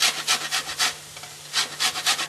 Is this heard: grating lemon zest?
yes